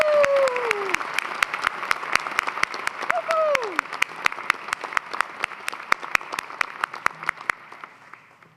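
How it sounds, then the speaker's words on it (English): Scattered hand claps ring out from a convocation audience honoring a retiring professor, distinct and fairly regular, joined early by a couple of rising whoops before thinning out toward the end. "Join me in a round of applause for the outstanding work Kent has done."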